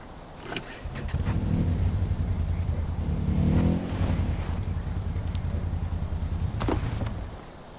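A car engine in the video game Far Cry 4 runs and revs at close range for several seconds, a steady low drone rising and falling in pitch, with a few brief clunks at the start and near the end.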